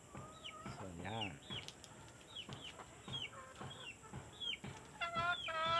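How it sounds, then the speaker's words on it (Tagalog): Dark-feathered chickens cluck and squawk in repeated short bursts on a mountain farm, fairly close, with a voice speaking intermittently over them. "Mga maitim guys ang kulor ng ating mga manok."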